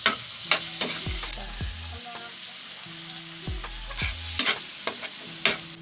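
Garlic, onion and tomato sautéed in a pan for a mung bean dish, with steady frying sizzle and repeated scraping and stirring strokes of a utensil, close and clear with no talking.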